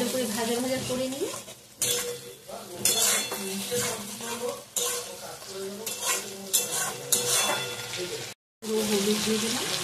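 Chopped garlic, ginger and onion frying in oil for a lentil dish, a continuous sizzle broken by repeated scraping and clinking of a spatula against the pan, with one brief cut to silence.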